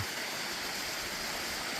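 A winter waterfall, Geumgang Falls beside Hangyeam hermitage in a valley near Pyochungsa temple, pours in a steady, dense rush of water, close and unbroken.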